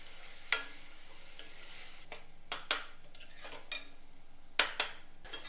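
Tomatoes and spices cooking in a pan with a little water for a Gujarati vegetable dish, with soft sizzling under several sharp clinks of a spoon stirring against the pan, spaced irregularly and fairly close.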